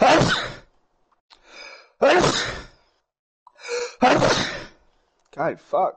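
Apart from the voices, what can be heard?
sneeze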